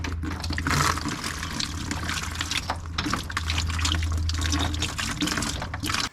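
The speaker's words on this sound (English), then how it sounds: "Since the coolant has kind of a long way to fall, it's actually kind of making a mess." Coolant from a 1990 Ford Mustang radiator drains and splashes into a tall bucket, a continuous close pouring and splattering stream of liquid with steady loudness, no talking.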